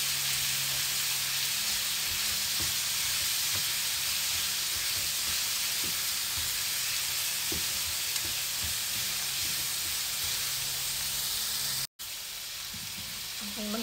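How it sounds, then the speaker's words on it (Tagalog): Ground pork sizzles loudly in a hot pan while aromatics are sautéed for lumpiang shanghai filling, a dense, steady frying hiss that runs throughout and briefly cuts out near the end. "Okay, maglalagay na ako ng ground pork."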